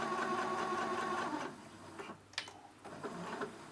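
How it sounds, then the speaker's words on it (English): A domestic sewing machine top-stitches pleats on a dress, running in a steady fast whirring stitch for about a second and a half, then stopping into quieter handling noises and light clicks. "Now there, here we are doing top stitching."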